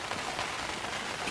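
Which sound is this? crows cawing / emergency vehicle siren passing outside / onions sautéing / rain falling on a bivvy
rain falling on a bivvy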